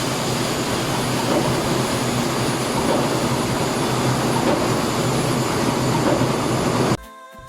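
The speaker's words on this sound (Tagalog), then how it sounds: "Pakinggan niyo po yung knocking sound." Marine engine running with a knock reported in cylinder number 6, a loud, dense mechanical roar held steady for about seven seconds before cutting off abruptly near the end.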